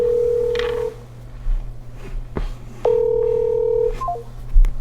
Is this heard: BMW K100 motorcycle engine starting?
no